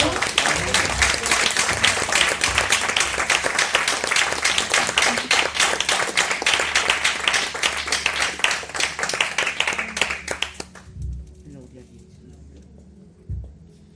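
Applause from a church congregation fills the first ten seconds, with dense and sustained clapping that cuts off sharply. A couple of faint thumps and low voices follow in a quieter room.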